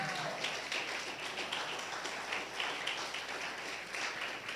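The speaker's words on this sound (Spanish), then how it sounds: "Denle un aplauso al Señor" A church congregation applauds during a Spanish-language Holy Week sermon, a faint, steady rain of clapping from a distant crowd that continues without a break.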